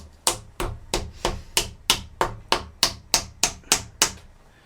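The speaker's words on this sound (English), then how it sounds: "We have a small hammer and the wedges. So I'm going to just knock them wedges" A small hammer knocks wooden wedges under a bow string near hickory limbs, twelve sharp evenly spaced taps at a steady rhythm, close and fairly loud, without talk.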